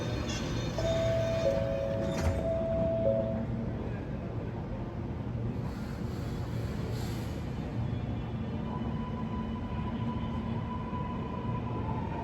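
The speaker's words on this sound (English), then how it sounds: "Decided just to film a couple of trains" A Sydney Metro train rumbles in Barangaroo station, with a continuous low drone, steady tonal whine, and faint echoing background noise; no speech.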